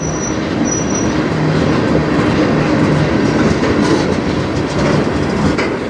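A CN manifest freight train led by locomotives 3091 and 3280 rolls past in Sarnia, Ontario, a loud continuous rumble of wagons with wheel squeal and rail clatter throughout.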